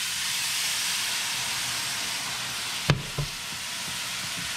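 Food sizzling and hissing steadily in a smoking-hot pan seasoned with garlic salt, loud and continuous, with a couple of sharp stirring clanks near the end.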